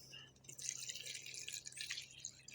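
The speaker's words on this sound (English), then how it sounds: "Okay, you'll want to strain the tea" Strained tobacco tea drips and trickles softly into a container, a faint uneven patter of liquid close by with no talking.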